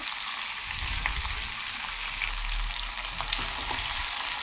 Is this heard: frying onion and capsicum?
yes